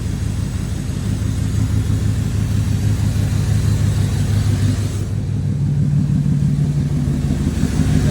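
A C4 Corvette engine idles on a Fitech Ultimate TPI ECU with a steady, loud low rumble and even firing pulses, holding smooth throughout with a slight tonal shift midway.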